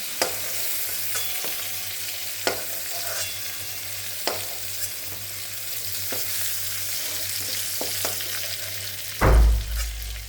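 Pointed gourd (potol) frying in hot oil in a pan, a steady sizzle with scattered scrapes and clicks of stirring, ending in a louder thump near the end.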